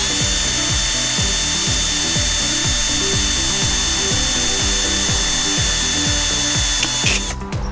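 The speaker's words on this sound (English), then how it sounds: "So we're gonna drill a hole in both these bottles," A power drill runs continuously with a loud, steady whine and a rapid rhythmic chatter as it bores a hole through a bottle, stopping abruptly at the end.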